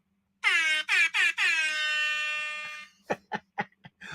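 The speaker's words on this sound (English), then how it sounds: "Gave her an air horn today." A loud air horn blasts in several short bursts, then one long sustained honk, followed by a few quick clipped blasts.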